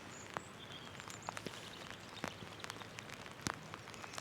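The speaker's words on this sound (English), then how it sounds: "And the rain is starting to fall." Light rain begins falling at Llanthony Priory, a ruined abbey near Abergavenny, with a soft steady patter and scattered individual drops ticking on surfaces close by.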